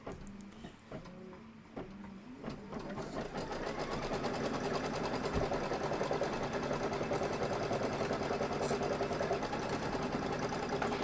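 A sewing machine stitches fabric steadily, its fast even needle clatter starting after a few soft handling sounds and running continuously at close range with no talk.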